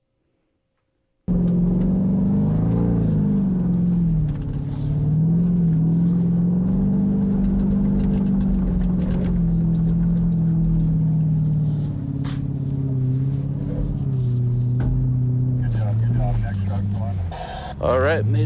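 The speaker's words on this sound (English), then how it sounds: "We're trying to hear the awesome V8 sounds." A Ford Raptor R V8 truck climbs a hill, its deep engine rumble droning steadily and close throughout, with people talking over it inside the cab.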